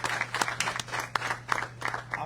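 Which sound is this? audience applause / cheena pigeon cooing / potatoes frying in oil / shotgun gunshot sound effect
audience applause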